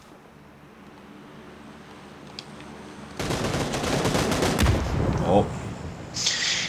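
Gunfire in the video game PUBG: after a quiet stretch, a loud burst of rapid shots erupts midway and continues with sharp reports, and a brief exclamation is heard.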